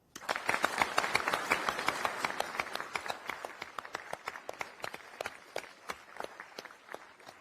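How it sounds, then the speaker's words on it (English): Audience applause at an army medic awards ceremony: a dense, steady wash of many hands clapping that holds for several seconds, then thins out toward the end. "a big round of applause for such a phenomenal event"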